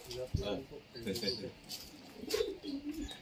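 Soft pigeon coos rise and fall in a pigeon loft under people talking nearby.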